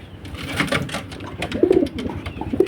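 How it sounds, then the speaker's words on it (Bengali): A Bangla pigeon cooing inside a pigeon house, low rolling coos repeating at intervals over a steady background of rustling and handling noise, fairly close. "এই যে আমার বাংলা কবুতরটা"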